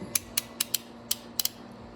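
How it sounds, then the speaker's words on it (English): Channel Lock 929 snap ring pliers ratchet shut with about seven quick, crisp, close clicks at an uneven pace, against a quiet background. "one of the nicest things about them for the bigger snap rings is they ratchet"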